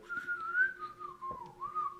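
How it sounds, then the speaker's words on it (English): A tin whistle in a song plays a short, wavering melodic line of sustained notes that slide downward and rise again, heard clearly for a couple of seconds. "The little tin whistle that's being played"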